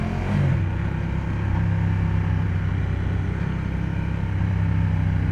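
A 2015 Ducati Diavel Carbon motorcycle being ridden, its engine a steady, throaty drone with a brief rev at the start, heard from the rider's position under wind rush, with no talking.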